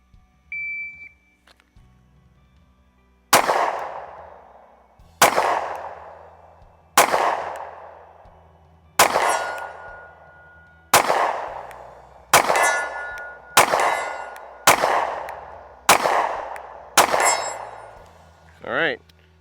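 Micro compact pistol shots ringing off steel targets at 40 yards: ten sharp metallic clangs, each with a long ringing decay, spaced about one to two seconds apart and speeding up toward the end, heard loud against a quiet outdoor background.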